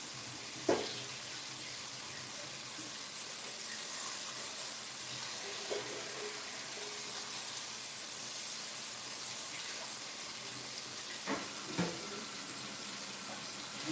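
Tap water runs steadily into a sink as cooked egg noodles are rinsed in a home kitchen, a continuous close hiss broken by a few light knocks of a pot or colander.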